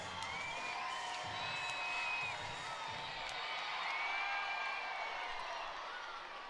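Baseball crowd at a night game cheering, whooping and shouting steadily, a sustained roar that carries on throughout at moderate distance.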